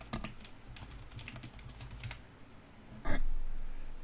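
Keys clatter on a computer keyboard while code is typed in Excel's VBA editor, a run of quick close taps followed by one louder burst near the end, with no voices.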